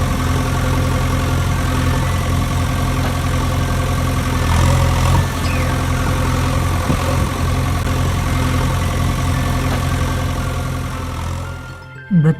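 A JCB engine runs at a steady, loud, close drone while hauling a Mahindra tractor out of a pit with a chain, holding an even rumble before easing off into a few brief knocks at the end.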